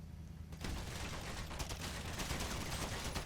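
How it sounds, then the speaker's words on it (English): Rapid video-game gunfire rips into a character during a shootout outside a fish and sushi restaurant, a dense, continuous barrage of overlapping shots that kicks in after a quieter half-second and stays loud to the end, with no talking. "Dino King getting shot up."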